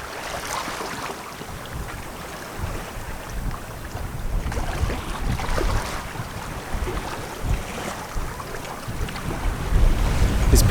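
Small sailboat sailing in the Mediterranean into an 18 to 20 knot wind, with steady broadband rush of wind buffeting the microphone and water sloshing past the hull, continuous and fairly loud throughout.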